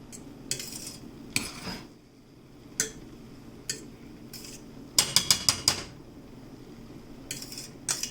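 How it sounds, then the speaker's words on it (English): A metal fork scrapes and taps against a cooking pot while checking cooked rice for Jamaican chicken and rice, with scattered sharp clinks and a quick cluster of rapid scratches near, with no talking. "We use our fork. We don't use spoon to test our rice."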